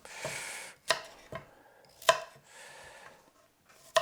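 Carrots being chopped with a new kitchen knife on a board during vegetable prep for a vegan autumn stew: four sharp, separate knife strikes spaced unevenly, close and clear, with quiet rustling between them and no talk.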